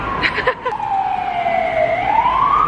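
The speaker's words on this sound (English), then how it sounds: "there's so many sirens in this city" A loud wailing emergency siren sweeps down and back up in pitch, close by, over faint street noise in Prague.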